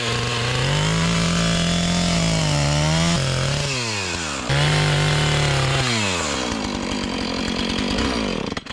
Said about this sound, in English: Definitely not my best chainsaw work.